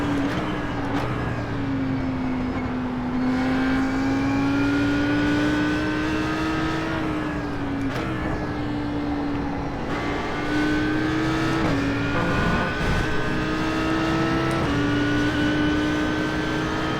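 GT3 race car engines from an Audi R8 LMS and a Mercedes-AMG GT in iRacing at Watkins Glen, a loud, steady roar with pitch climbing through gears and dropping at each upshift, continuous and without voices.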